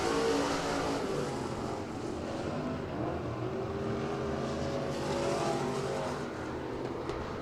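Race cars at Devil's Bowl Speedway roar past during the Spring Nationals, a dense, continuous, loud engine drone with swelling pitch sweeps as the pack passes.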